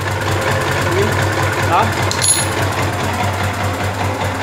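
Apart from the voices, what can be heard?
Honda Falcon motorcycle engine running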